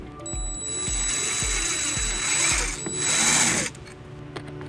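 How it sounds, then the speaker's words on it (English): A power drill fitted with a 3/16 drill bit bores holes through a bracket used as a template on a 2004 Toyota Highlander, its motor whirring steadily, with rattling clicks and a sharp rise as the bit bites in, then stops. "we're just going to use a 3/16 drill bit, and we're going to use the bracket as a template to drill the"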